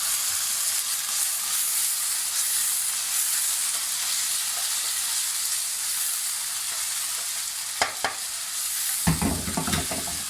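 Chow mein ingredients with garlic paste sizzle steadily in a hot pan, with a constant crackling hiss and a few scraping stirs near the end, alone without talk.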